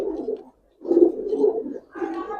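Giribaz tournament-flying pigeons in a loft give low, soft cooing calls in three close phrases with a brief pause between, nearby and alone.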